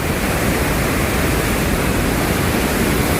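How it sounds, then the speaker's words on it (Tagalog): Meltwater from mountain snow rushes and roars in a loud, steady, broadband torrent, close by and unbroken, like a waterfall's spray. "Ito yung tubig. Ito yung snow na natunaw galing sa bundok."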